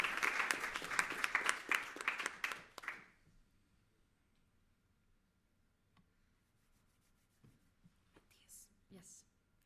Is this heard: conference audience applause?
yes